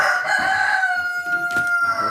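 Several roosters crow on a farm where new birds have just been added, with long sustained calls overlapping close by against faint farmyard background.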